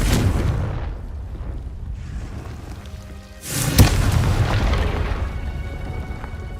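A loud fire-spell blast in Hogwarts Legacy erupts after a steady rumbling game background, booming once with a sharp crack and then settling into a sustained roar.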